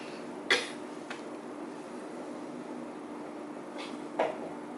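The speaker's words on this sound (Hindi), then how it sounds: "अब बोलने से ज्यादा खांसने की आवाज आएगी।" Two short, sharp coughs from a person talking, one near the start and another near the end, over a quiet indoor background hum with a fainter cough between.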